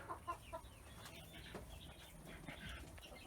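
A few soft clucks from black-skinned hens that lay blue eggs come early on against a quiet farmyard background, faint and somewhat distant, with no speech.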